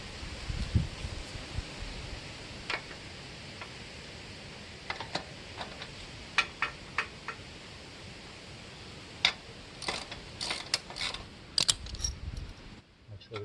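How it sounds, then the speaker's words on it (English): A ratchet tightens the rear axle nut on a Yamaha Virago 250 motorcycle, close metallic clicks in short irregular bursts over a quiet background, growing busier toward the end. "Tighten our axle."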